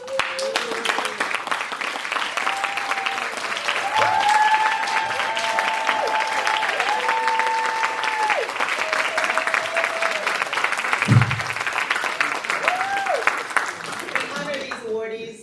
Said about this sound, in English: I'd like to ask our honorees to stand for a round of applause